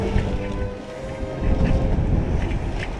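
Wind blows steadily over the open ocean aboard the sailboat Taravana in fair weather, a broad rushing noise with low buffeting gusts that swell midway, with no voices.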